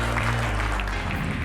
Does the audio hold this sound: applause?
yes